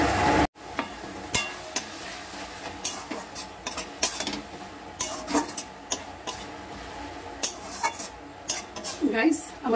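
Metal spoon scrapes and clanks against a pot in a steady irregular rhythm as prawn curry is stirred, with faint sizzling underneath and no voices.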